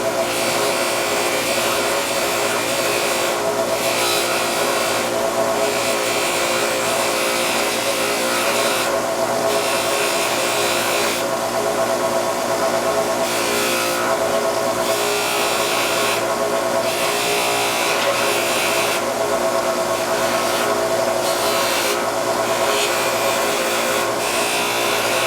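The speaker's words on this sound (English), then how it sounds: "you're going to take your polishing rouge. I just put a little bit on the wheel" A polishing wheel loaded with rouge works a part from an FN Browning 1922 pistol, a steady whirring hiss running loud and unbroken throughout, with slight dips as the part is moved back and forth.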